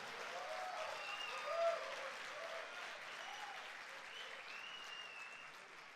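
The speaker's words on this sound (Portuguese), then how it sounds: "Dá um aplauso a Jesus aí." A church congregation at a Sunday service applauds steadily, a soft, distant wash of many hands clapping that swells briefly and then holds even until it fades at the end.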